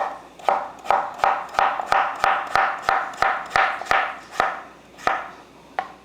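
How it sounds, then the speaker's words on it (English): A knife cuts a cucumber on a cutting board for a pasta salad, giving about fifteen crisp, evenly paced chops, each a sharp close tap with a short crunchy tail, and no talking. "I'm just cutting it in half, then cutting it down the middle, and then we'll do slices"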